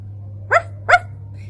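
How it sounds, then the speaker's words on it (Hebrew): A dog gives two sharp, close barks about a third of a second apart over a steady low hum, with no talk. "איך הכלב נובח?"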